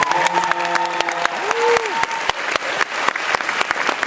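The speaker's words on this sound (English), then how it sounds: "Please, a round of applause." Convention panel audience applause for a fan asking a question: scattered, uneven clapping with sharp individual claps, while a brief tone and a rising then falling whistle-like sound cut through early on.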